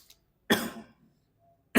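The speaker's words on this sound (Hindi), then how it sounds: "थोड़ा खांसी जुकाम है" A person with a cough and cold coughs once sharply and close, a harsh burst that tails off, followed by the start of another cough.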